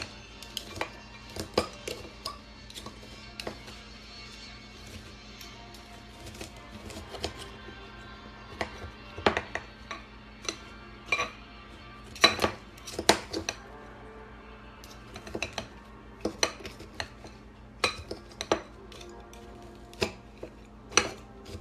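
Bacon bits are chopped into smaller pieces with a knife, producing scattered sharp clicks and taps against a board at an irregular pace, some in quick bursts, over a quiet background.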